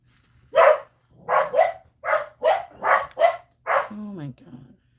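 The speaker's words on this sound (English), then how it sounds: "if you can hear me and the barking is as bad as it sounds in person" Several dogs bark in a rapid series of loud, close yaps that build to a whine or whimper at the end, over steady low room hum with a voice briefly present.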